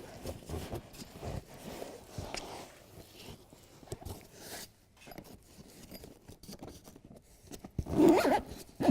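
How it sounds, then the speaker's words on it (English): A BEDRUG truck bedliner zipper is drawn closed with several scratchy, rustling pulls of fabric and teeth, nearby and moderately loud, ending in a louder zip. "then we can start zipping that up"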